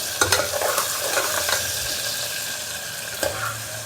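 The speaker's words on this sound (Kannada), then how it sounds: "ಎಲ್ಲವೂ ಕೂಡ ಚೆನ್ನಾಗಿ ಫ್ರೈ ಆಗಬೇಕು. ಈರುಳ್ಳಿ ಕಲರು ಚೇಂಜ್ ಆಗಬೇಕಿದು." Onion fries in a pan and is stirred, a continuous sizzle broken by scraping strokes and a few sharp taps of the spoon against the metal.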